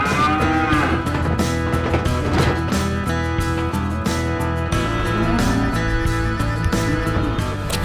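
Aubrac cattle moo loudly and close by, with several long overlapping calls running continuously from one animal to the next in a busy herd.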